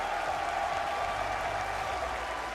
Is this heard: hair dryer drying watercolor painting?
no